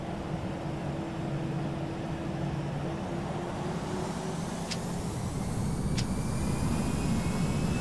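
Airbus airliner engines in the Prepar3D flight simulator, Frontier Airlines flight from Denver, a continuous steady drone with tonal hum that slowly builds, no talking.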